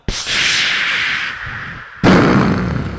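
Two loud firework bursts play as a sound effect in a Malayalam comedy skit. Each is a sharp onset followed by a sustained crackling roar, the second arriving about two seconds after the first. No speech is heard.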